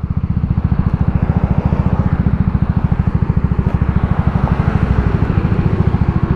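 A CBR sport motorcycle engine idles nearby with a steady, rapid low throb, loud and continuous, no voices.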